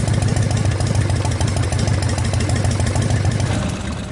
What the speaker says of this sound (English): With the engine fully warmed up and idle